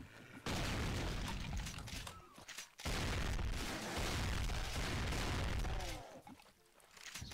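A big gun fires in a fast-paced shooter video game, delivering bursts of heavy booming shots in two long stretches separated by short pauses, with faint voice in the background.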